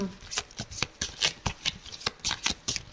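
A deck of oracle cards is shuffled by hand for a divination reading, producing a rapid series of close, crisp riffling flicks in irregular bursts.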